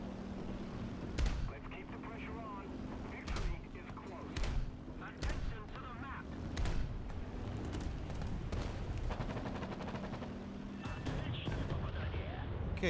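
Twin 37mm cannons on an IL-2 ground-attack aircraft in a video game fire in heavy, booming single shots at a slow, uneven rhythm over a constant engine roar.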